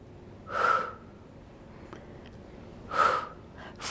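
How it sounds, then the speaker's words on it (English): Two strong, breathy exhalations during an exercise workout, evenly spaced about two seconds apart with a faint whistling edge, close up against quiet background noise and no talking. "And breathe."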